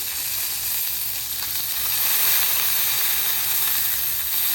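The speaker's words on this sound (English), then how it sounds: "nice sear on that steak" A steak sears in oil on a flat griddle, giving a loud, continuous close sizzle with hissing spatter that holds steady throughout, with no voices.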